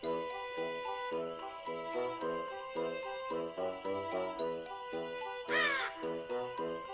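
A crow in the point-and-click game Kelvin and the Infamous Machine gives one sharp, harsh caw over looping game music with a steady ticking beat.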